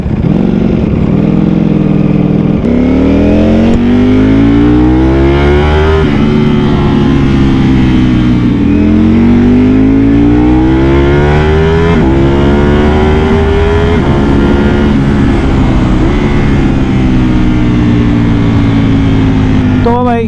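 A hot Ducati Panigale motorcycle engine revs loudly through its exhaust, throttle rising and easing in repeated sweeps over a steady rumbling idle, close and continuous with wind noise throughout.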